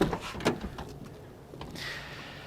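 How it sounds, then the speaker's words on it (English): A 1983 Plymouth Chrysler car door opening, a couple of short latch clunks and a soft swing heard close and alone, followed by a faint rustle. "let's go over and open the door"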